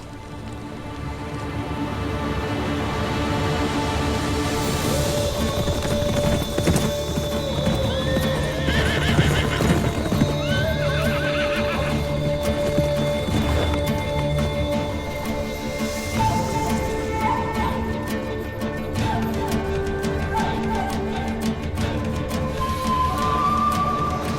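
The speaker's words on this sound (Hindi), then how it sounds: "चलो घोड़े निकालो।" Several horses move out for soldiers in a historical drama, with continuous clip-clopping hooves and repeated whinnying neighs over a dense music score, loud and sustained throughout.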